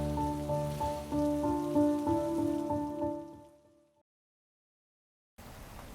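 Steady rain falls as a story sound effect, a dense wash with faint musical tones mixed in, fading to silence near the four-second mark before the patter briefly returns.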